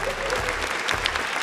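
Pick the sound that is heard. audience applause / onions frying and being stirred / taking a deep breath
audience applause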